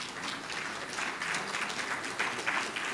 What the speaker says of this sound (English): So that nation deserves applause.